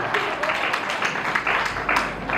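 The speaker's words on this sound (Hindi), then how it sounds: "तालियां माता जी जोर से" Steady applause from a crowd at a devotional Vrindavan katha gathering in a Sanatan Dharma temple, dense continuous clapping with occasional louder bursts, moderately close.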